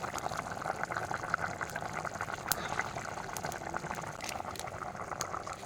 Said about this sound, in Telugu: కూర ఉడుకుతుంది